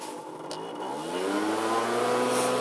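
A family-style trekker scooter accelerating up to top speed, its engine note rising steadily and growing louder over a couple of seconds, close and with no voices.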